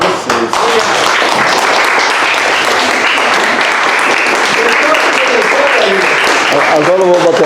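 Audience applause for performers on stage at a sarau, a steady dense wash of clapping sustained throughout, with voices talking over it.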